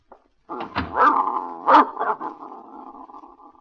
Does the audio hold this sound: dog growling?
yes